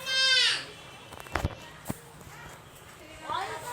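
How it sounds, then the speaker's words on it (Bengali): Goats bleat on a farm, a loud wavering cry at the start and another near the end, with thumps and footsteps of livestock moving between them. "এই দেখেন আমাদের বকরি"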